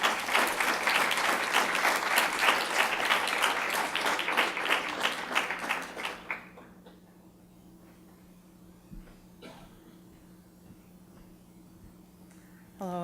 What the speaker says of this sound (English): We'll add our applause today as we welcome Annie and Hattie today to the podium